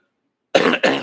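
Two quick, harsh coughs in close succession from a nearby man, loud and dry, after a second of silence.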